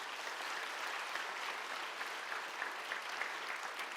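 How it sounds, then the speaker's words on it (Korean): Church congregation applauding to welcome a newly installed elder and his wife at an elder installation service, a steady dense wash of clapping throughout, moderately loud with no voices. "인사하실 때 기쁨으로 박수로 환영해 주시기 바랍니다."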